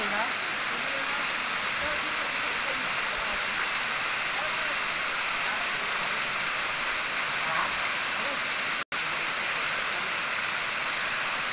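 The Sita Kund waterfall gives a constant, even rushing hiss of falling water, moderately loud and unchanging, broken only by a brief sharp click near the end.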